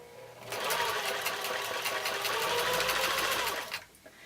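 A sewing machine stitches a seam in a nine-patch quilt block, running as a fast, steady, close whir for about three seconds, with a short start and stop and no talking.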